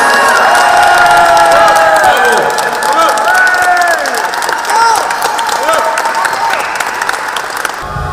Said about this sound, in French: Je crois qu'on peut à nouveau les applaudir